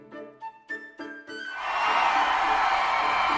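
A crowd cheering in the video game Fire Emblem Warriors Three Hopes, a sustained, loud roar of many voices that swells after a few short spoken or musical notes and holds steady.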